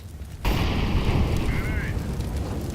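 An incendiary grenade bursts in a Counter-Strike-style shooter, a sudden loud whoosh that swells into a sustained roaring fire, with a brief warbling tone partway through.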